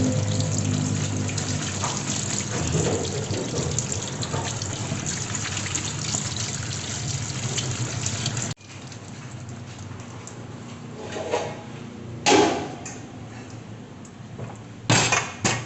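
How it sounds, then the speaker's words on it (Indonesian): Moringa leaves being washed in water, with close splashing and trickling that stays busy at first, then turns quieter with a few sharp splashes. "sekarang cuci daun kelor"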